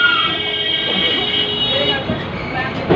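Seated in the front car of a two-car tram, the ride gives a steady rumbling roll with faint squealing tones and rattles, close and continuous throughout.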